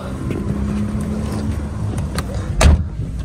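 Taxi car engine idling and rolling up at a busy airport stand in the Marshall Islands, a low steady rumble amid crowd noise, ending with a short loud thump like a door closing.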